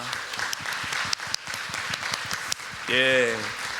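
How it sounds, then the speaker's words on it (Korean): Congregation applause at the close of a church new year special dawn prayer service, a scattered patter of hand claps continuing under speech before a brief sung or spoken tone rises near the end. "우리에게 복을 주신 하나님께 영광 박수 올려드리겠습니다"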